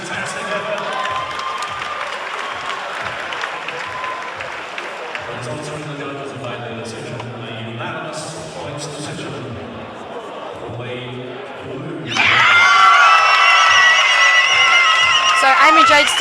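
Crowd at a Perth Muay Thai fight night erupts in loud cheering and applause near the end, after a stretch of commentary voices talking over quieter crowd murmur.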